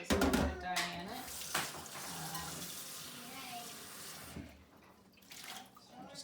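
Tap water runs while a naturally dyed shirt is rinsed, a continuous rushing spray with splashing and shifting fabric, close by. A person talks over part of it.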